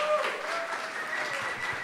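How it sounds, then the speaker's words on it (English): An audience at a live Dublin event claps for Bia as she is called to the stage, a steady wash of applause filling the room for about two seconds at moderate level. "Please, applause for Bia."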